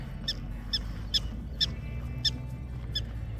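An animal near its burrow in Theodore Roosevelt National Park, North Dakota, gives sharp, high-pitched warning chirps. About seven of them repeat at an even pace over a low outdoor rumble.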